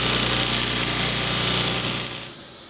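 A bench grinder takes grind marks and the wire edge off a handmade knife blade, giving a steady, loud, high-pitched grinding whine. It runs evenly, then cuts off near the end.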